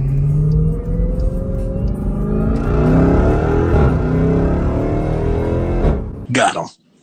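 A Dodge Hellcat revving hard as it accelerates through paddle-shifted gears, loud rising engine harmonics sweeping up and dropping with each shift before cutting off abruptly near the end, captured from inside the car.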